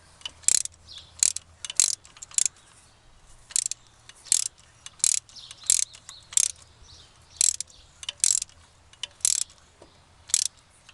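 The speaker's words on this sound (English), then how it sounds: "And we're going to twist it and torque it all the way down." A ratchet wrench torques a spark plug down on a 2010 Dodge Challenger SRT8, giving a string of sharp clicking ratchet bursts in an uneven rhythm, close and loud with quiet gaps between strokes.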